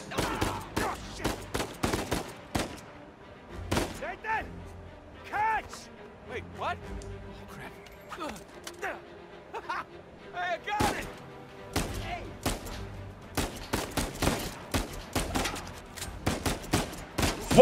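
Gunfire in the action game Uncharted 4: rapid bursts of shots and sharp cracks come in dense clusters at the start and again near the end, with quieter stretches of game sound between. A person talks over the shooting.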